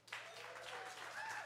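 Applause from a live concert audience at Campus JAX, a steady broadband wash of clapping that starts just after the opening and holds at an even level, with a few faint cheers on top.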